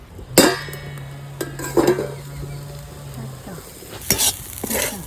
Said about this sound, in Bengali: শাক ভাজা হয়ে গেল